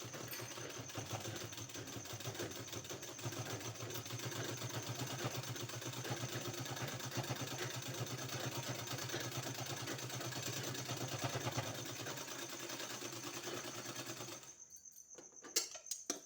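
A sewing machine runs steadily while stitching a sleeve seam, a continuous close mechanical whirr with rapid rhythmic needle chatter for about fourteen seconds before stopping, followed by a few brief handling clicks.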